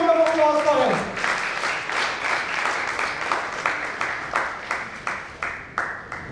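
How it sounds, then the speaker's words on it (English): Audience applause at an international convention session of NRIs, a steady round of clapping that swells after a brief opening and continues for several seconds, moderately loud and close. "A huge round of applause for him."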